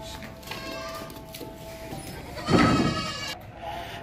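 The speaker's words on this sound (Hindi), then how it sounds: "ये देखें, बहुत ज़बरदस्त बकरी है" A dairy goat, kept for milk and kids, gives a few bleats over steady background noise, with one louder, fuller bleat about midway.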